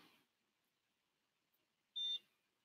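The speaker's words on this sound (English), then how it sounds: "Only two beeps." A NuFace facial toning device gives a short, bright electronic beep on its own in a quiet room, with a faint clicky sound just before it.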